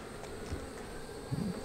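A steady, dense buzzing of many honey bees at a split hive, close by and fairly loud, with a short low flutter near the end.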